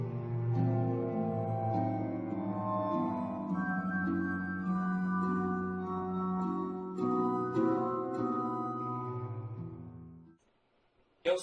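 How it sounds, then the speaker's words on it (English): A glass harmonica plays slow, sustained, ringing chords that blend smoothly into one another for about ten seconds, then fades out abruptly before a brief sound at the end. "The glass harmonica sounds like this."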